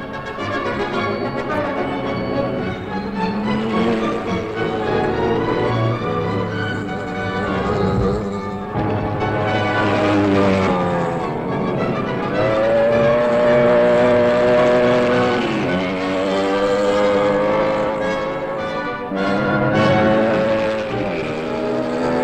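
Several 350 cc motocross motorcycles racing at a 1965 event in Kalinin, engines droning and rising and falling in pitch as the bikes pass, loud and continuous with no talk over them.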